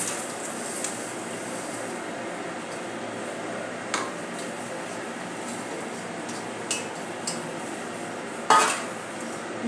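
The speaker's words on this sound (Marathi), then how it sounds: "आता आपण यामध्ये हे सर्व पदार्थ घालून घेऊया." Ingredients for an energy bar added into a cooking pot, heard as a few sharp clinks and knocks of a spoon on metal over a soft, steady background hiss, close and sparse, with no talking.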